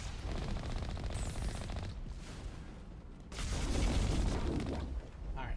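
Rapid automatic gunfire from a weapon in a video game, dense bursts of shots with booming low rumble, easing off briefly midway then swelling louder again, with no talk over it.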